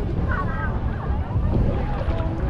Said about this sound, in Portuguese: Olha, essa aqui é a nossa lancha aqui, ó.